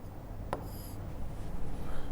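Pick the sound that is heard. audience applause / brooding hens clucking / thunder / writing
writing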